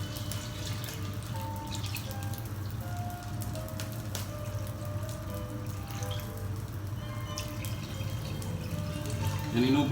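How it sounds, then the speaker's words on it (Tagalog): Mineral water pours steadily into a cooking pot, a continuous splashing rush with a low background hum throughout. "Lagyan na natin ng tubig para kumulo na siya."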